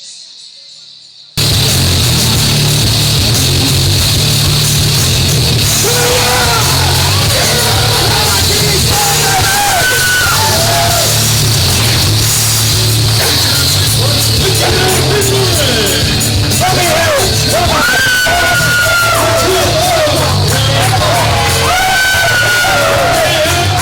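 Wrestling crowd at a tag team championship match in Bridgewater, Massachusetts, cheering, yelling and whooping continuously, loud and dense throughout, with a steady low music beat beneath and individual shouts rising above the roar.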